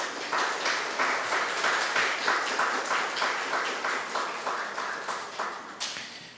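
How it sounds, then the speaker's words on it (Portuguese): An audience at a spiritist book fair musical talk claps in a steady, rhythmic unison beat that gradually fades, with a brief sharp sound near the end. "Pode aplaudir"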